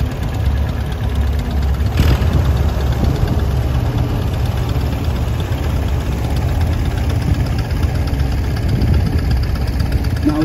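A 1955 model GB antique tractor with an Elwood front wheel assist runs at a steady, loud rumble with a knocking beat at an outdoor antique tractor and steam engine show parade.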